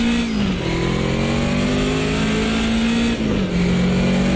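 A BMW 2002 Turbo engine in the Automobilista 2 racing game revs loudly and steadily, its pitch climbing through gears with a quick shift dip, close and alone with no talk.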